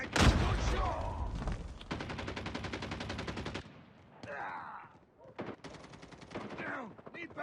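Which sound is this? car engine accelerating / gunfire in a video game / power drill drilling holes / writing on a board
gunfire in a video game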